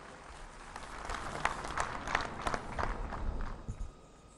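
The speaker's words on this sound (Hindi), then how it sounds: "दोस्तों, जोरदार तालियों से स्वागत करें।" An outdoor crowd at a public meeting in Sissu, Lahaul, claps to welcome Prime Minister Modi after the Atal Tunnel inauguration. The clapping is a steady, moderately loud patter with uneven bursts, then thins out toward the end.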